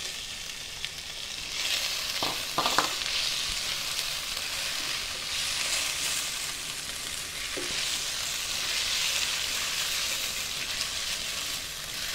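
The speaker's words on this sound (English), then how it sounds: "Onion is caramelized, go ahead and add salmon." Salmon frying in a pan with caramelized onion and garlic makes a loud, steady sizzle that rises and holds, with a few brief clinks of a utensil against the pan.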